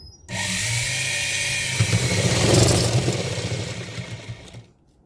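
Sewing machine running steadily for several seconds as it stitches a rose embroidery design onto a blouse, a continuous close whirring hum that swells slightly midway and then stops.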